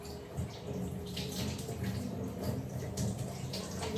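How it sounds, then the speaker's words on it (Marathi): A tap runs steadily into a sink while a spoon is rinsed under it, giving a soft continuous splashing with a few faint clinks. "वॉश करतोय चमचा"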